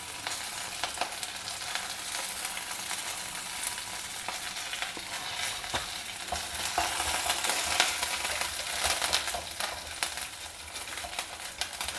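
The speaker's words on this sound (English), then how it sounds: "Stir fry it over a low flame." Dals, groundnuts, mustard seeds and curry leaves are stir-fried over a low flame, giving a dense, continuous crackling sizzle with occasional scraping strokes of a spatula.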